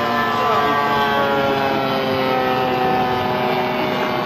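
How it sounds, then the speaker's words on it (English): Large-scale model fighter aircraft flying low over an airstrip at a model flying display, a sustained droning engine whine with steady tonal harmonics that holds loud and continuous throughout, with a slight swell near the start. "the boys in the fighters are burning up the airstrip"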